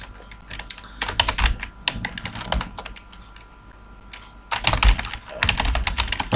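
Computer keyboard typing in clustered bursts of close, crisp keystrokes while HTML code is deleted, with a quieter lull midway before another fast run of taps, and no talk.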